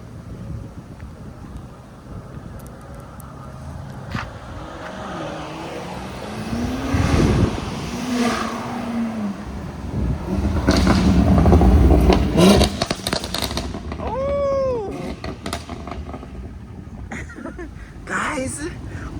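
A BMW X6M with a cheap Alibaba aftermarket exhaust drives past, its engine note swelling from far to near and loud before fading, with wind noise and people talking and cheering around it.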